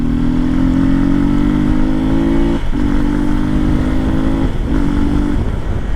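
A Hero Xpulse 234 motorcycle fitted with a big bore kit, in fourth gear, is held at full throttle from about 3500 RPM. The loud, steady engine drone climbs and dips briefly twice as it pulls hard, with no voices.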